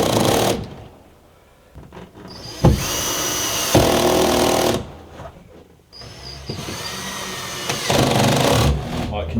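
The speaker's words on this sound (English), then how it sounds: "I can now come around with the rest of the screws." Cordless screwdriver on a low torque setting driving screws through a window frame into a clamping ring, giving several short whirring bursts of a second or two each, with a person talking between and over them.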